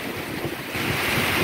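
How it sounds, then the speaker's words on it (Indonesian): Heavy rain and strong wind batter Jatigede reservoir in a storm, a dense, roaring wash of rain noise with gusty wind buffeting the microphone, loud and unbroken. "Hujana hujan badai gede."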